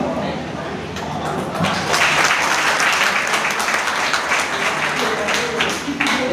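Audience applause at an Ambedkar Jayanti speech, a broad sustained wash of many hands clapping that builds and holds loudly for several seconds.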